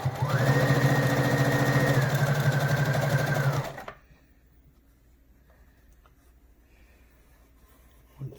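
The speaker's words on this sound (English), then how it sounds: "continue sewing right off the edge of the mask" A sewing machine stitches along the edge of a fabric face mask in a steady, loud whir for about four seconds, then stops abruptly, leaving near silence with a small click at the end.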